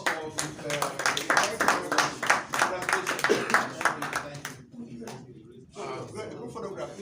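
Audience clapping for a group at a citizenship event in Lagos, rhythmic claps running for several seconds and then tailing off, with voices talking over and after it.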